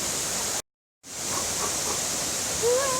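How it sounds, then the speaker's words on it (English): The Charco Prieto waterfall in Bayamón, Puerto Rico, a steady broad rushing roar of falling water heard up close, briefly cut off, with a faint voice rising near the end. "Just a beautiful waterfall up here."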